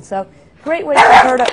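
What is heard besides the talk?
dog barking that someone has arrived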